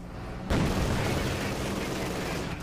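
An MG42 machine gun fires from a forward position in Company of Heroes 2, a sudden dense, sustained burst of rapid gunfire that keeps rattling on amid other battle noise after a quiet lead-in.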